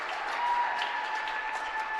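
A crowd in a gym applauds steadily at a girls high school basketball game between Zane Trace and Washington, with a faint tone running underneath.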